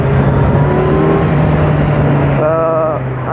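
An unrestricted four-cylinder Kawasaki Z900 motorcycle pulls hard, its engine roaring loudly and steadily with a high rising note and wind rush, and a voice speaks over it.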